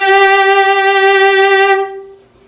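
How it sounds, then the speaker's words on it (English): One sustained bowed viola note rings loud and rich with a rapid, nervous wobble in pitch, then cuts off and fades quickly. "So a too fast vibrato sounds kind of shocky."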